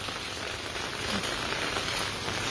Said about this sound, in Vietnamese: Bây giờ thì trời đang rất là mưa